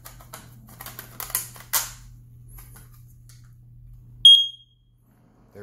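A smoke detector being fitted into its mounting holder gives a short, sharp electronic chirp near the end, after a stretch of clicking and handling noise over a steady low hum.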